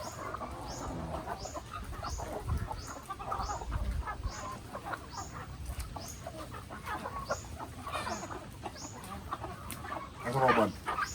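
Chickens cluck repeatedly in a steady series of short calls, moderately close, with faint voices and other farmyard noise in the background.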